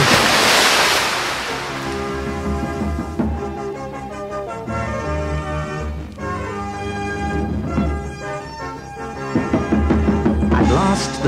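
Ocean surf opens with a broad, rushing wash of breaking water that fades, then lingers beneath steady instrumental music for the rest of the stretch.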